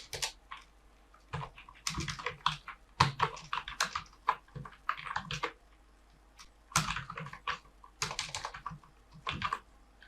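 Computer keyboard typing in bursts of quick key clicks with short pauses between words, close and quiet, in a room with a low steady hum.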